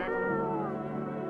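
A cat meows once in the video game No, I'm Not A Human, a single drawn-out, clear tonal cry heard close and alone at low volume.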